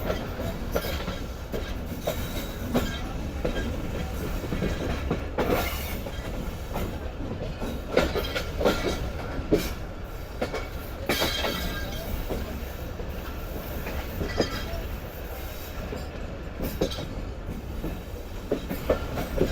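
The Shalimar Express, a passenger train, rolls out of the yard behind its locomotive with a steady rumble, rhythmic clickety-clack over rail joints and occasional wheel squeals, heard from on board, no talk.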